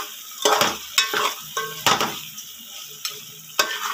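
Chicken curry is stirred in a frying pan, giving a steady sizzle broken by several sharp scraping and clattering strokes of a utensil against the pan at irregular intervals, close and fairly loud, with no voices.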